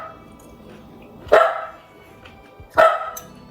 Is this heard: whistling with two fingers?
no